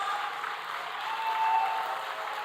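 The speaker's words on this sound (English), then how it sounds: "Let's give a big round of applause to all the dual degree graduates." An audience at a departmental degree distribution ceremony applauds dual degree graduates with steady, moderately distant clapping that holds throughout.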